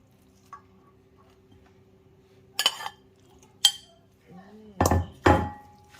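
Fresh shrimp and vegetables dropped into a bowl of spicy instant noodle salad with fermented fish sauce, giving a few sharp clinks and clatters of utensils against the dish, close and clear with quiet gaps between.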